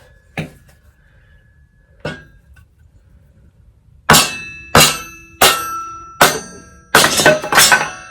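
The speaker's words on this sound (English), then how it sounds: "nice piece of firewood, but now I'm turning it into a nice piece of kindling." A log and kindling splitter cuts firewood into kindling: two light early taps, then a series of sharp, loud woody cracks and thunks in quick succession, each with a brief ringing decay.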